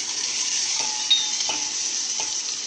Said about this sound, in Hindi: अब हम तेल में जीरा डालेंगे, फिर उसमें ये चॉप किए हुए कांदे डाल देंगे